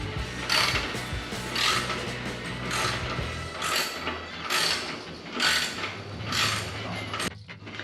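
A ratchet wrench cranks a bolt tight by hand, giving repeated bursts of rapid pawl clicking, about six strokes in a steady rhythm, close and fairly loud, with a brief pause before the end.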